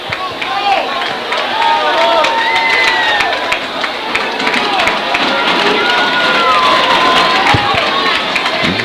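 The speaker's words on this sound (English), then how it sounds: "the Dog defenders are wanting the crowd to get up, make some noise" Home crowd at a 2005 high school football game between WB and Jackson County roars and cheers steadily, a dense wash of shouting voices with whistles and children's yells throughout, loud and continuous.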